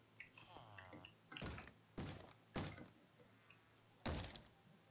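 Doors in modded Minecraft, four distinct wooden thuds, evenly spaced and fairly close, against a quiet background with faint rippling sound effects between them.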